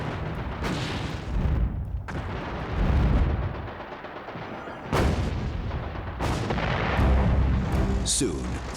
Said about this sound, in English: he calls an artillery barrage on Assenois